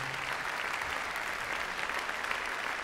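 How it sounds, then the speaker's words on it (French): A large concert-hall audience at the Olympia applauds children of an school orchestra program, giving steady, dense, even applause that fills the room without a break. "oui, on peut les applaudir"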